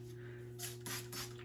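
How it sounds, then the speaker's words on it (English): Water is spritzed onto a wig in quick bursts, three short hissing sprays in a quiet room with a faint steady hum underneath. "spray her a little bit with water"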